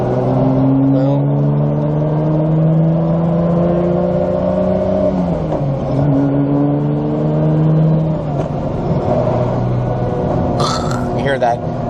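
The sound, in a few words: Toyota Supra clutch jangling while driving at 2300-2700 RPM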